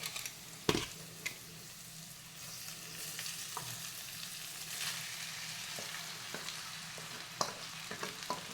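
Rice is tipped into a pan of frying vegetables for veg pulao and stirred, with a sharp knock at the start, a soft steady sizzle and recurring scraping clinks of the spoon, no talk.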